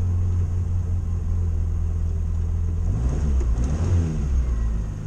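A Morris Minor engine running steadily after its ignition points were refitted, a low continuous rumble close by with a slight rise in revs toward the end, no voices.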